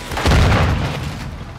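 A single heavy, booming grenade blast in the shooter Call of Duty: Modern Warfare II, loud and close, with a deep rumbling tail that fades gradually.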